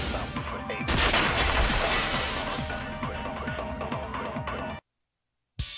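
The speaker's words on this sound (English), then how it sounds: "If it wasn't the window, then what broke to make that sound? A vase." A vase shatters in Danganronpa 2: Goodbye Despair, a loud crash of breaking ceramic followed by a long scatter of falling shards and debris, then an abrupt silence.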